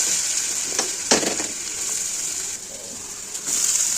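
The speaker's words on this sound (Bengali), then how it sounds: "কড়াইতে আবার তেল দিয়ে দিয়েছি, এবার এই ভেজিটেবলগুলো দিয়ে দেবো।" Vegetables drop into hot oil in a wok and sizzle loudly and steadily up close, with a couple of clattering knocks early on and the hiss swelling again at the end.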